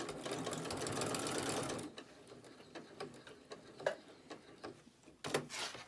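A sewing machine stitches a fabric-scrap lanyard in a steady close whir for about two seconds and then stops, followed by quiet clicks and handling taps as the needle drops and the fabric is turned, with a short burst of stitching near the end.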